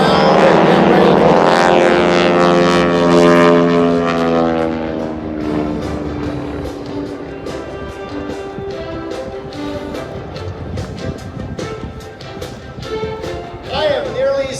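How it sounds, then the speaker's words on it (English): Aeroshell aerobatic team propeller planes flying at the 2019 Abbotsford airshow, a loud close engine roar sweeping past and fading into a lingering drone, with a voice speaking over it. "I am nearly speechless every time I see the Aeroshell aerobatic team. It is so loud, so fast, and so smoky."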